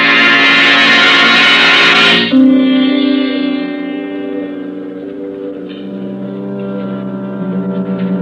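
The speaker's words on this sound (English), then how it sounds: "I used to love the sound of foghorns on the bay" A foghorn on a bay sounds a deep, droning blast, loud and sustained, then shifts to a lower, reverberant tone that fades slowly, echoing across the water.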